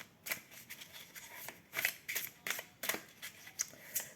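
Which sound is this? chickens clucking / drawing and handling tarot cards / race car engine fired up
drawing and handling tarot cards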